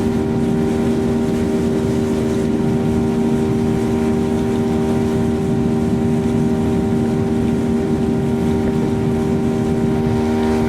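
A Honwave T38 SIB inflatable boat motors across Poole Harbour, its outboard engine droning in a loud, steady, continuous hum at an even pitch, with no voices.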